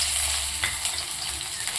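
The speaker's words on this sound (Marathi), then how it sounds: "मोहरी छान तडतडली की त्यामध्ये आपल्याला भरपूर असा कांदा घालायचा आहे कापलेला" Chopped onion frying in a kadhai with mustard seeds, a steady broad sizzle with faint crackle running throughout, close and fairly loud with no talking.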